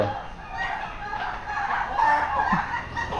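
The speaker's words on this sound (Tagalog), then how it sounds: "Hindi pala maingay, nag-aaway pala yung manok. Tsaka pabo." Chickens and a turkey cluck and squawk agitatedly as they fight in a noisy jumble, with excited fowl calls overlapping throughout at moderate distance.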